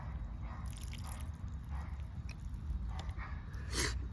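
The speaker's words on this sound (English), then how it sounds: "if we remove this hose, you have all that water" Water runs out of a disconnected outdoor garden hose and adapter at a house's exterior wall faucet. It makes a steady low splashing rush with scattered drips, fairly quiet and with no voices.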